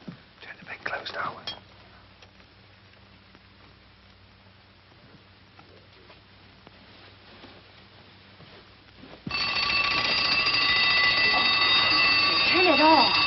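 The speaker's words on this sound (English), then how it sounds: "I'll set the alarm." An alarm clock starts ringing after a quiet stretch of soft murmuring and rustling in a bedroom, its bell a loud, continuous metallic clangor that carries on steadily.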